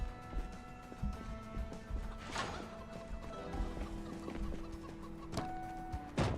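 Chickens clucking in the survival video game Project Zomboid, a few hens giving short repeated clucks and squawks close by over a low engine-like hum, fairly quiet.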